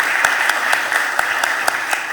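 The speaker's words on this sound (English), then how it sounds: "Go ahead and clap." People at a committee budget hearing clap steadily, a moderately loud, even patter of applause with a few sharper individual claps standing out over the course of the burst.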